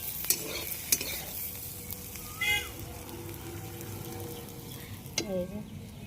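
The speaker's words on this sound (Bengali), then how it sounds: "আর কুঁদরিগুলো ভাজা হয়ে গেছে, কুঁদরিগুলো উঠিয়ে নেবো।" Fried ivy gourd (kundri) sizzles steadily in oil as it is stirred in a pan, with a few soft scrapes and two brief high cries like a cat's meow rising above the frying.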